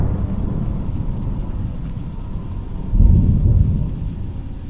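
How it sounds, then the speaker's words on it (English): Steady rain falls while a low rumble of thunder swells partway through and then fades back into the downpour. "tried to fall asleep listening to the sound of the rain"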